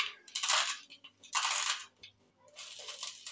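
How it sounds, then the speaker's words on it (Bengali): Dried lentil dumplings (bori) being crushed by hand for a mustard-oil chilli and onion mash, heard as three bursts of crisp, rattling crumbling close by, separated by short pauses. "এইবার বড়িগুলো গুঁড়ো করে নেব।"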